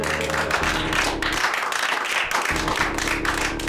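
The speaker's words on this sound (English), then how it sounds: "Another round of applause for Steve and Tim" A crowd applauds steadily after a live music performance at Alexander Bar, dense clapping throughout, close and fairly loud.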